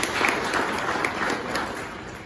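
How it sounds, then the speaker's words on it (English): Steady round of applause from an audience at a formal infrastructure and building-industry function, a dense continuous patter of many hands clapping at moderate level with no distinct voices. "You can give a round of applause."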